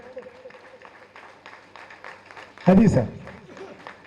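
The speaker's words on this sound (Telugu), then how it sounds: "ఒకసారి కళాకారులు అందరూ నించొని వాళ్ళు గట్టిగా చప్పట్లు కొడతాం, నించొని చప్పట్లు కొడతాం" Artists rising for a standing ovation at a district artists' welfare association event, a short loud burst of clapping that breaks out after talk and fades within a few seconds.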